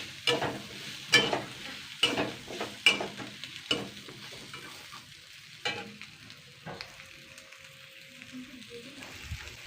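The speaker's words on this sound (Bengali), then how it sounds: "আর একটু পেঁয়াজ দিয়ে দেবো দেখুন পেঁয়াজ দিয়েছি" Onions frying with dried loitta fish in a pan: loud stirring clanks and scrapes come in a fairly regular rhythm over a continuous sizzle, with the strokes easing off toward the end.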